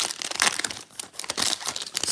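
A pack of baseball trading cards is torn open, its foil wrapper crinkling and crackling in quick, close bursts with a brief pause midway.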